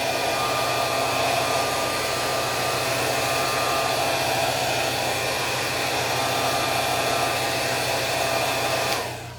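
A hot air tool blows steadily and loudly to warm a double pencil case, a continuous close roar that holds for about nine seconds before cutting off, with no talking.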